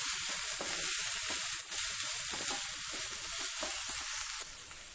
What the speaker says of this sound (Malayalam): ഇനി നന്നായിട്ടൊന്ന് ഇളക്കി യോജിപ്പിക്കാം.